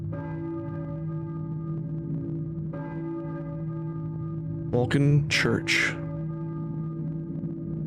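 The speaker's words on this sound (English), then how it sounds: "I hear a church bell, maybe? Who's ringing the bell?" A church bell in a video game tolls with long sustained ringing tones, fading and returning, while a voice speaks briefly over it near the end.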